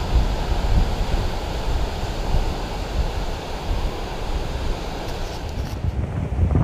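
Ocean waves wash steadily onto a beach heaped with seaweed, while wind rumbles into the microphone. The broadband roar stays constant throughout and no one speaks.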